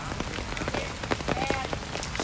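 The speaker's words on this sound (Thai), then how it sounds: "สนามนี้ วันนี้ฝนตกครับ" Rain falling steadily on an outdoor sepak takraw court, a dense, continuous patter of drops with scattered sharper hits and no voices.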